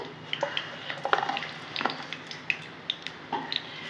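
Black cumin and a dry red chilli crackling in hot oil in a wok, with scattered sharp pops and spits over a soft, quiet hiss.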